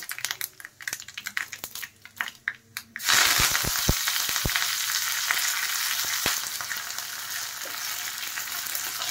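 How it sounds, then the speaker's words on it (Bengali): Light knocks and clicks of a pan come first, then mustard seeds and curry leaves hit hot oil with a sudden loud hiss, settling into a steady, close sizzle with sharp pops and crackles. "তেল গরম হয়ে গেছে, দিয়ে দিচ্ছি সর্ষে আর দিয়ে দেব কারি পাতা।"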